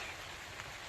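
Monsoon rain falling on a banana plantation, a soft, steady patter and hiss spread evenly across the moment, faint and unbroken with no voices.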